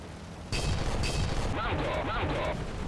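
Several loud cannon-like blasts go off in quick succession in War Thunder game audio, a PT-76 tank firing, booming with a sharp hiss after each shot.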